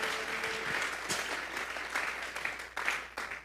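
A church congregation claps together as an offering of praise, a fairly faint, dense round of applause with uneven swells and a few sharper individual claps.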